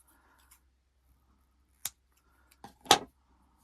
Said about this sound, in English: go ahead and snip it off